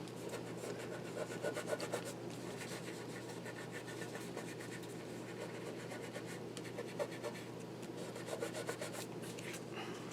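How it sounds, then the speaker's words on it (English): Cardstock being burnished onto a We R Memory Keepers sticky folio gives a continuous dry scratching and rubbing, close and fairly quiet, with light irregular strokes throughout. "So let's see if we can burnish this."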